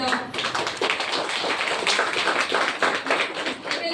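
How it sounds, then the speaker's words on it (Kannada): Audience applause at a foundation's graduation function in Davanagere, dense and steady for the whole stretch, close and fairly loud, with no talking. "ನಿಮ್ಮ ಚಪ್ಪಾಳೆ ನಮಗೆ ಬೋಸ್ಟ್"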